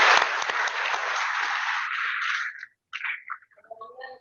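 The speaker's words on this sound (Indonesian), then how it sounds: "Tepuk tangan dulu buat Owi" Audience applause for Owi, a retired badminton player, at a talk show reunion; dense clapping for about two and a half seconds, then a short pause and a few scattered claps with faint voices at the end.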